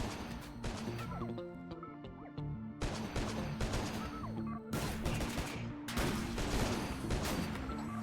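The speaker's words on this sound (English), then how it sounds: "The turrets are already engaging." Defense turrets in the Rimworld video game open fire on attacking raiders and mechanoids, a dense run of rapid gunshot bursts and impacts over a steady tonal music bed, with near-continuous volleys and brief lulls.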